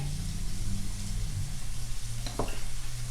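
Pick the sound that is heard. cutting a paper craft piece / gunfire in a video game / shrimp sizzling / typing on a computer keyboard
shrimp sizzling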